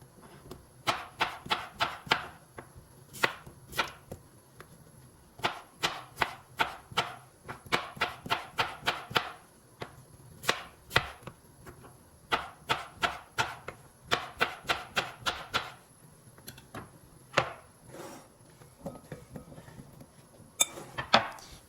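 A knife slicing cucumbers lengthwise on a cutting board makes quick bursts of crisp taps against the board, with short pauses between runs of cuts, close and clear with no talk.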